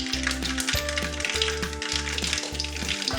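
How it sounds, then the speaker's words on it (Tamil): Mustard seeds splutter in hot oil for tomato thokku, a dense crackling sizzle running throughout beneath a loud, rhythmic low mechanical hum that pulses on and off. "இப்போ கடுகு நல்லா பொரிய ஆரம்பிச்சிருச்சு"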